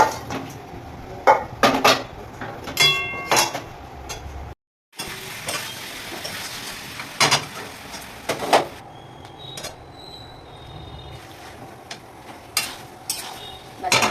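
Food being stirred in a metal pan for tomato rice and Schezwan chicken, with scraping clinks of spoon against pan and light sizzling in bursts, a brief gap midway, no talk.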